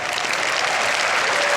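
A brief burst of steady applause from a crowd, clapping evenly throughout.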